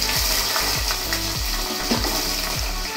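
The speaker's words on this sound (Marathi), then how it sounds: "आपण आता पुदिना थोडा आणि कांदा फोडणीला घालूया।" Mint and onion frying in hot oil for a chicken biryani tempering, a continuous close sizzle with a rhythmic scraping of stirring repeating about every half second.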